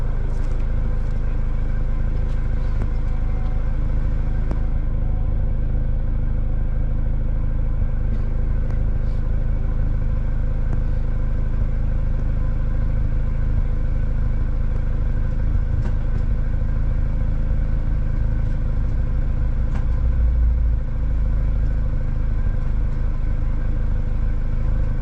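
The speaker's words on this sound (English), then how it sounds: "As you can hear, I have the car started" A Mini Cooper's engine idles steadily at close range, a constant low rumble with a faint clatter that runs unchanged and alone for the whole stretch.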